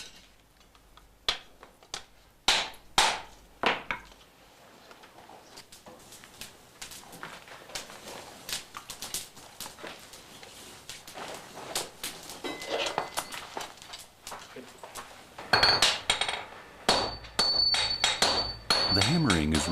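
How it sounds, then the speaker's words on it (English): Disciples of a Japanese swordsmith pound red-hot tamahagane steel flat on an anvil with heavy 10-kilo hammers, a series of loud, ringing metallic strikes in irregular bursts, some spaced apart and others coming in quicker clusters. "The hammering is repeated several times."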